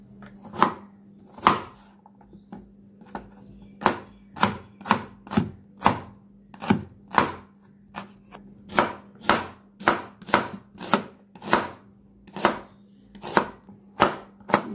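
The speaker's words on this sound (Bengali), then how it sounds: "পেঁয়াজগুলো আমি কেটে নিলাম।" Onions are chopped on a cutting board: about twenty sharp knife strikes in an uneven but steady rhythm, close by, with no talking.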